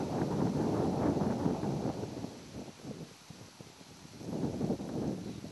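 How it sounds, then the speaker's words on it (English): Strong wind buffeting around a hunter perched in a tree stand, coming in heavy roaring gusts that ease briefly in the middle before surging again, close and blustery with no voices. "The wind is about to blow me out of this tree."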